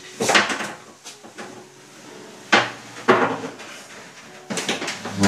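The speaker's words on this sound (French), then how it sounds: "Là je viens soulever la planche. Je replie la jambe de force en dessous." Wooden knocks, clatters and rattles sound at close range as the brace leg of a 19 mm plywood folding workbench is lifted and folded underneath, in irregular bursts with short pauses.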